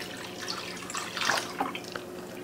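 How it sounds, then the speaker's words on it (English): Cold water poured into a cooled ham hock brine, a soft running splash with brief watery surges and drips, close by and steady, with no talking. "So you want to start adding your water."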